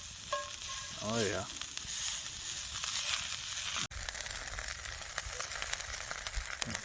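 A beaver tail fries in hot oil on high heat, a loud continuous sizzle and crackle with a brief scrape partway through, and a voice speaks briefly near the start.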